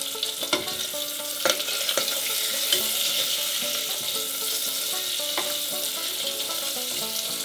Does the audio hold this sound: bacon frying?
yes